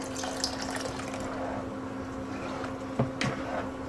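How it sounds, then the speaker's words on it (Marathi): Water is poured into a pot of spicy Maharashtrian gram-flour pithla cooking with drumstick pods. A steady, soft splashing flow runs throughout over a low background hum, with a couple of brief clinks near the end. "अजून पाणी लागणार आहे याला"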